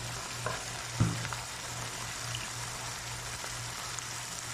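Beef goes into a pan already seasoned with patis, oyster sauce and pepper for beef pares, giving a faint, steady frying sizzle with a small clatter of stirring near the start, and no talk.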